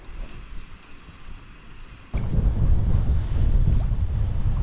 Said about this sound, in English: Ooh boy, here comes that wind.